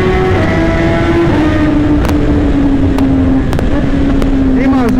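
A 2018 BMW S1000RR sport motorcycle engine while riding, a loud, close, steady high-revving whine whose pitch sags slowly, with faint brief clicks over the constant roar.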